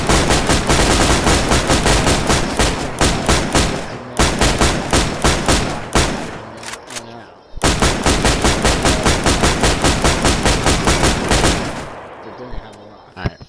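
Sustained rapid automatic gunfire in DayZ during a community-server base raid, loud and close, in long dense bursts broken by short pauses, with players talking over it.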